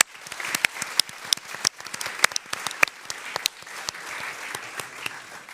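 A small audience at a talk on representations of old age claps warmly for a speaker, individual sharp claps clearly distinguishable in a steady, moderately sized round of applause.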